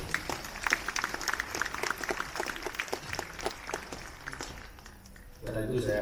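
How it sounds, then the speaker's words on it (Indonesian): Audience applause at the Indonesia Fashion Week 2024 closing ceremony, a dense, moderately distant patter of many hands clapping that fades out toward the end, in a large hall. "Tepuk tangan."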